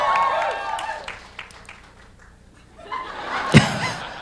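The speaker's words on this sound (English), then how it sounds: "She's clapping." Audience at a fan convention Q&A panel breaking into a brief burst of clapping and light laughter, mixed with scattered crowd noise and chatter.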